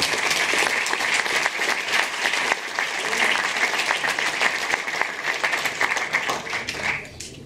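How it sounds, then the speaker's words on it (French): Sustained, dense applause from a large audience fills a film festival closing ceremony hall, steady and loud throughout before thinning slightly at the very end. "moi je les applaudis, je sais pas vous"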